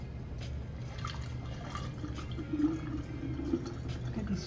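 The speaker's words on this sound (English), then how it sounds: "I'm gonna pour in my container now" Star fruit, June plum and guava juice is poured into a container, making a faint, steady liquid trickle with small splashes and drips. It is quiet and close.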